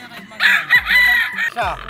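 A battle stag rooster on a game farm lets out a single loud, close crow lasting over a second, with faint clucking and farm noise around it.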